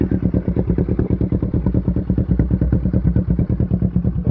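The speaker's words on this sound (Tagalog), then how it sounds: "Yan yung pinaka-rumble niya kapag naka-idle." A 2022 Kawasaki Z650 motorcycle idles in neutral with an aftermarket exhaust, giving a loud, steady, close-up rumble of rapid even pulses that runs without a break.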